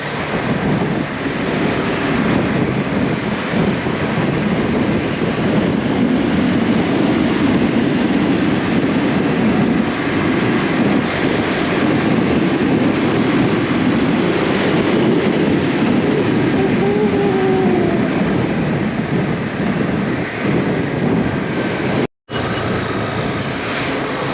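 A steady, loud rumble of a moving Konkan Railway train fills the recording near Mangaon station, with constant rolling noise and a faint squeal partway through, then an abrupt cut.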